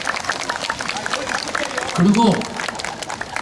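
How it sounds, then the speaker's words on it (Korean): Crowd at an outdoor disability awareness festival in Mapo district applauds with a busy wash of clapping, while a voice briefly speaks over it near the end. "아, 박수 한번 때려주세요."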